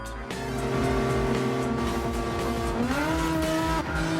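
Race cars pulling away at the start of a race in Gran Turismo 7, engines droning loudly and rising in pitch together as the pack accelerates, with no voices heard.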